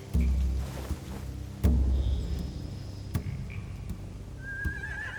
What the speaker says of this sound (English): They have horses.